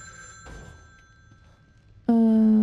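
Telephone ringing in the horror game The Evil Within 2: quiet ambient game sounds and a faint thud give way to a sudden loud electronic ring near the end, bright and close.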